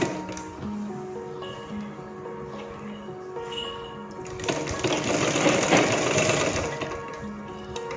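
A sewing machine stitches sleeves onto a readymade churidar, a steady close mechanical whirr that grows louder and denser partway through.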